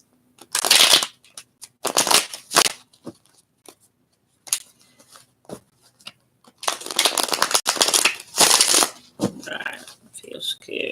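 Tarot cards from an Arcane Tarot deck being shuffled in several bursts of riffling and slapping, close and crisp, separated by pauses with scattered small taps and a brief voice near the end.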